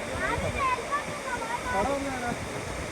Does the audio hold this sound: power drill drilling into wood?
no